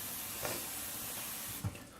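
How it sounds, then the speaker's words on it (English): Hot water runs steadily from a sink tap into a large mixing bowl, a soft continuous hiss with a couple of brief splashy bumps near the end, fairly quiet. "I have this huge mixing bowl here filled to the brim with hot water. Gonna fill it up a little bit more."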